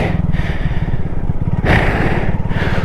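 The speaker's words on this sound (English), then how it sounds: "Ooh, a dirt bike." A dirt bike engine runs close by with a rough, throbbing putter, and its pitch rises briefly partway through as it is revved, then settles back.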